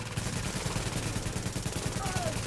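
Rapid automatic turret fire in the video game Tom Clancy's The Division, a dense fast stream of shots pounding steadily throughout at close range, with game ambience underneath.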